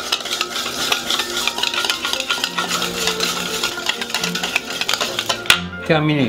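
Red wine vinegar and vegetable oil dressing whisked briskly in a bowl, a fast, steady clattering swish close by, ending in a sharp clink as a voice speaks briefly at the end.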